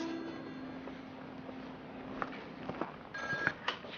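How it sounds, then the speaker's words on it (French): A telephone rings in a Haitian film scene, with short tonal bursts over a steady low hum and a faint room background. No one talks. "Ah, mon téléphone, c'est pour moi."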